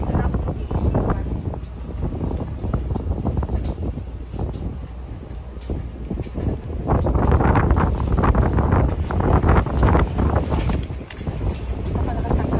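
Strong wind blows steadily outdoors on a cold, gusty day at a planting site, a dense roaring rush that buffets the microphone and swells louder in the second half, with no clear voices.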